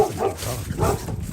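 A dog gives a couple of short barks and yips on an outdoor morning walk while the trees turn, close and fairly loud, with a voice briefly present.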